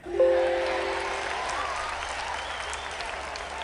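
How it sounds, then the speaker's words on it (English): Applause in the Air Hauler 2 flight game on X-Plane 11: a burst of clapping crowd that starts sharply after a brief chime, then holds steady and slowly fades, with no voices. "We get applauded there"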